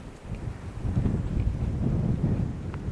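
Strong wind buffets the microphone in a steady low rumble that gusts louder for a few seconds at an overlook campsite in Bangui, Ilocos Norte, with no voices.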